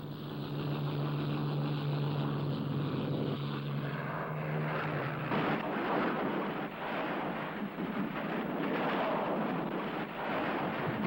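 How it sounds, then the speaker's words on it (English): WWII Allied fighter planes, British Spitfires and American Thunderbolts, taking off in a rush: a steady, loud roar of propeller aircraft engines fills the whole stretch, with a low droning hum early on giving way to a broader, rougher rumble. "the Allied pilots, who were celebrating the New Year at the time, take off in a rush"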